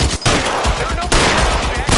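Rapid, loud gunfire in the video game L.A. Noire, with dense machine-gun-like bursts filling the whole moment and briefly dropping out between volleys.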